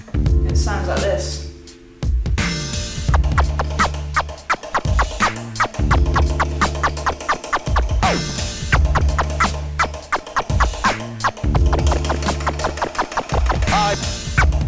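Stab scratches on a vinyl record using a vocal sample, quick punchy chirps cut rhythmically over a looping drum beat, loud and up front.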